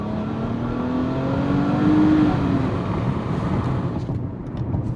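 Nissan Maxima 3.5-liter V6 engine heard from inside the car through a slightly open window, a rising drone climbing in pitch then easing off, mixed with road and wind rush and no talking.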